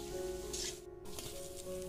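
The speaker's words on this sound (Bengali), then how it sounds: "চুলার আঁচ মিডিয়ামে রেখে বড়াগুলো লালচে করে ভেজে নেব।" Palm fruit fritters (tal bora) frying in hot oil over a medium flame, giving a steady, close sizzle that briefly drops out and then resumes, with no one talking.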